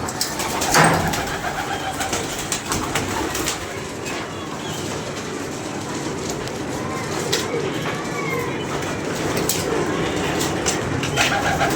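Pigeons coo softly amid a busy outdoor background of chirping birds and steady ambient noise, with occasional sharp sounds.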